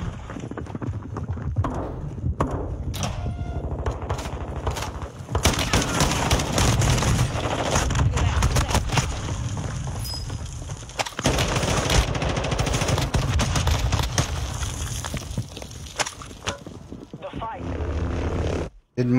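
Rapid bursts of gunfire from the player's weapon in Warzone 2 crackle through a dense, loud game mix, with speech layered over the shots throughout.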